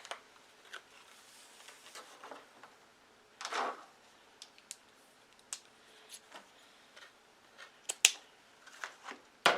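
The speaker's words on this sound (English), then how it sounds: "I can stop now and cut a ribbon to go around" Scissors snip through ribbon while a 12-loop funky bow is being made: scattered quiet clicks and short snips, with one longer rasping cut in the middle and sharper snaps near the end, close and alone.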